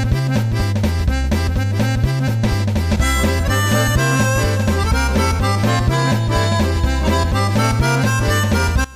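Lonely Souls level music from the SpongeBob SquarePants PS1 game, a bouncy, cheerful looping tune with a pulsing bass pattern and busy melody, loud and continuous with no voices.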